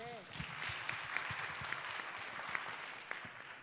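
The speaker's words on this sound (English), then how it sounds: "I think we need to give you a big round of applause." Audience applause at a wellness healing gathering, a soft, steady patter of many hands clapping at moderate distance, fairly quiet overall, with a brief voice at the start.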